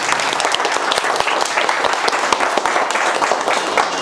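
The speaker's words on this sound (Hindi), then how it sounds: "एक बार खड़े होकर जोरदार ताली बजाइए" Audience at a mobile circuit repair masterclass breaks into loud, sustained applause, dense clapping filling the room steadily throughout.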